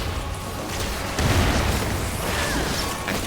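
Explosions in the video game Final Fantasy XIV: Endwalker come as a dense, continuous rumbling barrage, swelling louder about midway and staying busy with booms and crackles throughout, with no talking.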